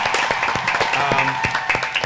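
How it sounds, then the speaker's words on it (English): An audience applauds with scattered sharp claps, moderately loud, while a voice talks over them. "Clap it up for yourselves"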